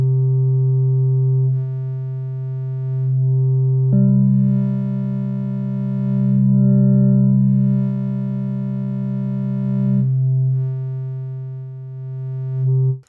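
Sustained buzzy triangle wave tone from the u-he Tyrell N6 software synthesizer, steady and fairly loud, with a second higher note layered in for a few seconds mid-way.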